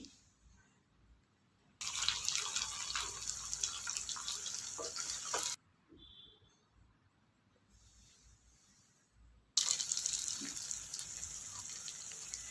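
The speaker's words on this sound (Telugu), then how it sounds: "గ్రేవీకి సరిపడా కొన్ని నీళ్ళను పోసేసుకొని ఒకసారి నిదానంగా కలుపుకోవాలి" Water runs in two strong bursts, separated by a quieter pause, as it is poured into a brinjal gravy for masala gutti vankaya curry; a steady close splashing stream with no voices.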